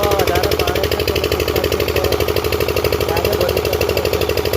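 A water pump engine runs beside a farm well, its close, loud, rapid chugging beat holding an even rhythm throughout.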